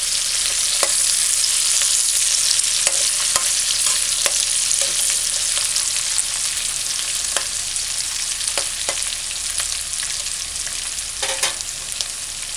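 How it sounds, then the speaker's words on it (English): Onions fry in a pan with a steady, loud sizzle throughout, punctuated by occasional clicks and scrapes of stirring. "I'm just frying these."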